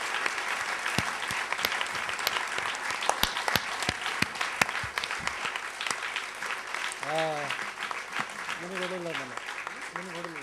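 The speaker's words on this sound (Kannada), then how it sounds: "ಒಟ್ಟಾರೆ ಎಲ್ಲ ಕಲಾವಿದರಿಗೂ ದಯಮಾಡಿ ಜೋರಾಗಿ ಚಪ್ಪಾಳೆ ಹೊಡೀರಿ" An audience applauds at a Carnatic music concert featuring a Purvikalyani ragam taanam pallavi: dense, sustained clapping with sharp individual claps standing out. A voice speaks over the clapping.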